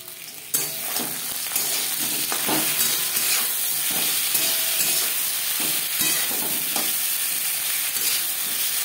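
Ginger paste and green and ripe chili paste fry in a pan. A loud burst of sizzle opens the sound, then a steady crackle continues, broken by repeated scraping stirs.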